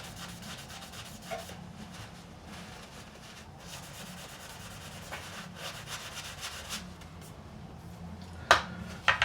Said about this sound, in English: Any excess I'm going to just rub off.